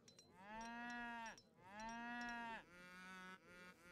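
Cattle in Age of Empires III give three long, drawn-out moos in quick succession, loud and close, each a sustained tonal low, the last one shorter and lower.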